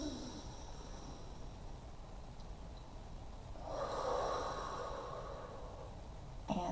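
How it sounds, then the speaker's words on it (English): One person takes a slow, deep breath in during a conscious discipline breathing exercise, a quiet breathy rush swelling midway through a near-silent stretch and then fading. "then you breathe in"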